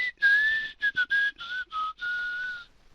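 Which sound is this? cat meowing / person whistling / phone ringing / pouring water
person whistling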